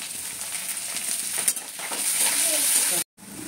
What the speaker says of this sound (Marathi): थोडेसे परतून घ्यायचे. कच्चापणा निघून जाईल शेंगदाण्यामधला.